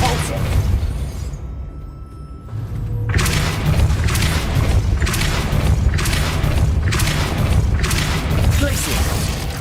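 A Depulso force spell is cast in Hogwarts Legacy, with a burst of booming, thumping impacts in rapid repeating pulses after a brief quiet gap, loud and close, over a low rumbling game backdrop.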